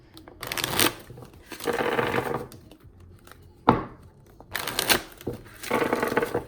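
A deck of playing cards is shuffled close by in repeated riffling bursts with short pauses between them, each a crisp flutter of cards snapping together.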